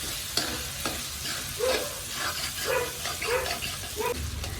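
Chopped ginger fries in a pan until its moisture cooks off, a soft, steady sizzle broken by several gentle stirring scrapes at a fairly low level, with no talking.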